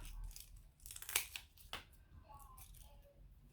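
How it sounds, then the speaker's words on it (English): Scissors snip through a strip of Velcro, giving two or three short, crisp cuts close by against a quiet room. "I'm just going to cut a bit of the Velcro off"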